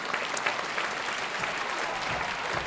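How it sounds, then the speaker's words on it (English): Audience at a multiple sclerosis wellness summit applauding the exhibit sponsors, a steady wash of clapping from a full room, even and continuous for a few seconds with no talk over it. "And we should give them all a round of applause for everything that they did"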